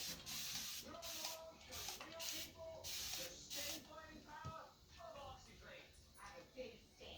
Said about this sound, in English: You can spray it just a little bit.